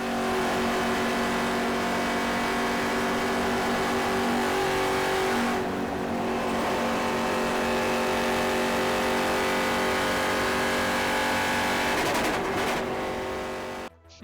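A race car engine in the iRacing sim roars steadily at high revs, loud and close throughout, with brief dips and pitch shifts as it changes speed.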